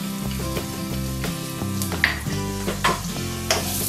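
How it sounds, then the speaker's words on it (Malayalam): Chopped garlic sizzling in hot vegetable oil over high flame, a continuous loud frying hiss with occasional stirring scrapes, close and alone. "വെളുത്തുള്ളി ചെറുതായിട്ടൊന്ന് വഴറ്റി എടുക്കണം"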